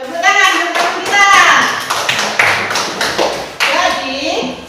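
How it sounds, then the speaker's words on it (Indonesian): Children clap together in a classroom during a fourth-grade science lesson, a burst of quick, close, uneven claps over about five seconds, with children's voices calling out through it. "Tepuk tangan untuk kita."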